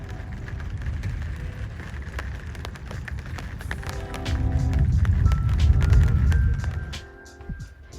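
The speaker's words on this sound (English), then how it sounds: "And the thunder is getting more intense. I think, yeah, it's a little bit rain now." Light rain falls during a thunderstorm, a steady soft hiss with a deeper rumbling swell through the middle that eases off near the end, with no voices.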